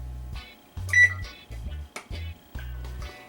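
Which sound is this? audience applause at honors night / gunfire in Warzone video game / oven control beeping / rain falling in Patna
oven control beeping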